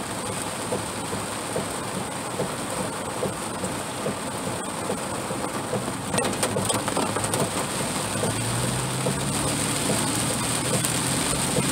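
Steady rain hisses continuously, with a low rumble building partway through and faint chirps in the background.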